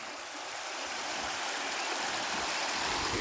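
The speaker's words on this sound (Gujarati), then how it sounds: "પાણીનો અવાજ કેવો મસ્ત છે." A rain-swollen river rushes fast past the listener, a broad, continuous roar of flowing water that grows slightly louder over a few seconds, close and alone with no voices.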